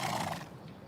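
A horse whinnies once, fairly faint and a little distant, its neigh fading within about half a second into quiet background.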